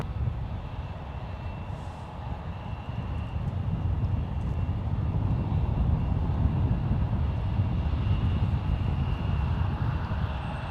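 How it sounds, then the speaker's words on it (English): An Airbus A380 touching down on runway 28 right at San Francisco International Airport, a broad low engine roar swelling from moderate to loud and holding steady, heard from a distance with a faint thin whine above. "the A380 making a smooth landing on 28 right"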